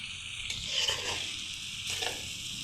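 Eggs are stirred into raw papaya in a hot frying pan, giving a soft continuous sizzle with faint scraping strokes of a spatula, quiet and steady with no talk.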